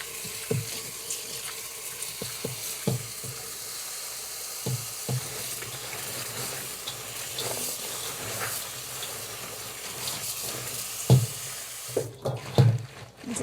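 Sorrel being washed by hand in water, with irregular splashes and sloshing close by, sharper bursts of water near the end, and no talking.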